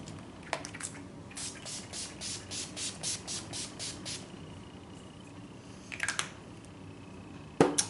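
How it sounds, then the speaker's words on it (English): A rapid series of about a dozen short pumps of Mary Kay finishing spray onto a face, evenly spaced, close up, followed by a few quiet clicks and rustles. "Just gonna spray that on my face."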